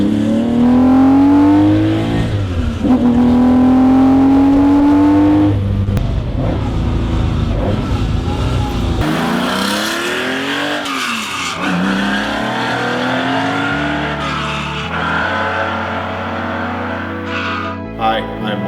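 A 1973 Porsche 911 engine revving hard under acceleration, loud and close, with rising and falling gear pulls, shifts between them, and tire squeal near the end.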